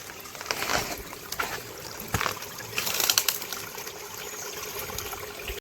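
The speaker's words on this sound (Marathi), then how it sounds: "पाण्याचा आवाज येतोय म्हणजे खालून पाणी आता जमिनीतून येतोय" Water seeps up out of the ground and trickles along at the foot of a steep slope in dense forest, a soft continuous gurgle and splash with a few sharper drips, close by and alone.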